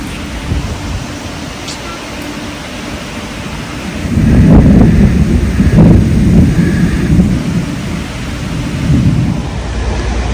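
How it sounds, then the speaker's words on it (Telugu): Heavy rain pours steadily while thunder rumbles in, swelling into a long low roll midway and fading back under the downpour. "సాయంత్రం చాలా పెద్ద వర్షం పడింది అన్నమాట"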